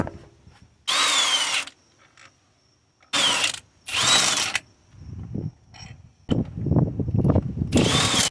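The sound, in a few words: socket wrench removing 14mm motor mount bolts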